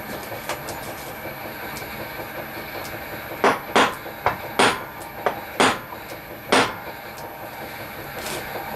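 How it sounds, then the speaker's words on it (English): Several sharp metallic taps of a hard hammer striking an anvil while working on an engine crank, close and bright, landing in an uneven cluster midway through a quiet workshop background. "A nice hard hammer on the anvil. So I'm just going to give that a tap."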